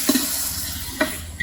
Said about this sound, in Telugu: ఈ అల్లం వెల్లుల్లి పేస్ట్ కూడా పచ్చివాసన పోయేదాకా వేగండి